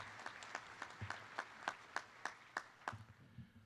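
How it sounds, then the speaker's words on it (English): Audience at a university honors college medal ceremony claps in a steady rhythm of distinct, fairly close handclaps, about a dozen over a few seconds, before tapering off. "Maybe just one more round of applause for you all as well."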